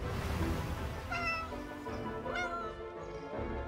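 Cat meowing in the video game 11-11 Memories Retold, a few drawn-out meows rising over a steady game music bed, moderately close and without talk.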